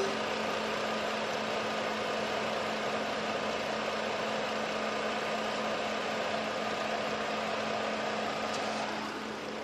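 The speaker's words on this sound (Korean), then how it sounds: "이렇게 가솔린 6기통 엔진이 들어가다 보니까 너무나도 정숙한 모습을 보여주고 있습니다." A 2014 Ford Explorer 3.5 gasoline V6 with 4WD idles quietly and smoothly with the air conditioning on, giving a steady low hum and fan hiss that hold constant throughout, with no voices.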